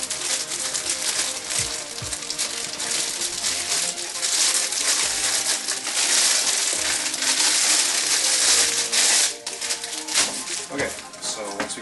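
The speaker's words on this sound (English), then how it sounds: "there's a little plastic bag like that inside of the gym bag. Doesn't look like it has anything open, so you just gotta rip it open" Crinkly, crackling plastic rustle from a small plastic bag of modular PC power supply cables being ripped open, sustained and busy at close range, with some faint knocks and talk.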